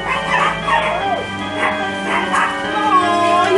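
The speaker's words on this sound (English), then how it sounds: "Doggy." A dog barks and yips repeatedly in a rhythmic series of nearby calls on a Halloween trick-or-treating outing, set over a steady background tone.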